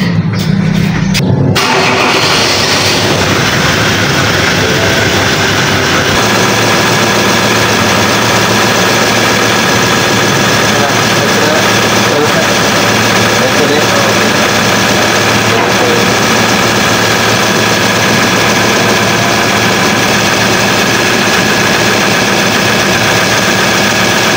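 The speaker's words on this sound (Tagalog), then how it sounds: "antayin lang natin uminit yung engine para pumasok yung coolant sa loob" A Ford Ranger 3.2 engine idles loudly and steadily while warming up after a coolant flush and transmission work, with a brief rattle at startup and then a continuous low rumble throughout.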